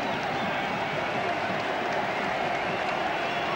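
Steady applause from a cricket crowd at Eden Park after Chris Harris hits a four in a New Zealand v England one-day international, a dense even wash of clapping heard from a distance.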